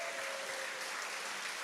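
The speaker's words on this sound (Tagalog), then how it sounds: "Palakpak!" Applause from a church congregation gathered at a Baptist church anniversary family camp, a steady, broad wash of clapping filling the room for the whole moment, fairly faint and even, with no voices over it.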